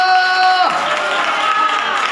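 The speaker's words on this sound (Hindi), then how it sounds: "जोरदार ताली बजा के प्रभु के नाम का महिमा करें।" A church congregation at a Hindi Bible study bursts into loud applause that follows a sustained tone, with dense clapping and crowd noise filling the rest of the moment.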